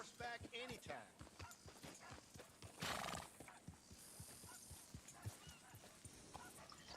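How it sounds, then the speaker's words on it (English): In the Red Dead Redemption 2 video game, a horse gives a loud whinny midway through, with clip-clopping hooves walking throughout and a dog barking near the start, while game voices talk over it. "bring that horse back anytime"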